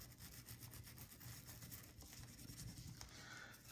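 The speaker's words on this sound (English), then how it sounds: "I'm going to go ahead and do another quick scrub on it." A pistol barrel gets scrubbed with a brush, producing close, quick repeated rubbing strokes in a fairly even rhythm, quiet and alone with no talking.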